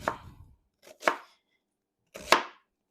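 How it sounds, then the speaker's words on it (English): Onions are chopped with a knife on a board in three separate bursts, each a short crunchy cut standing out clearly against silence, close and fairly loud. "So I've got these onions, and you chop them just however you like."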